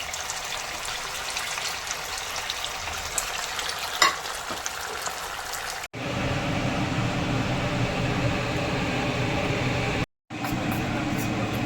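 Rava batata vada frying in hot oil, a steady crackling sizzle that runs throughout, louder and fuller after a brief cut, with a short gap near the end and no talk.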